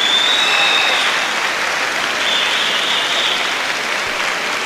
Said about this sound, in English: that gets an appreciative round of applause from the spectators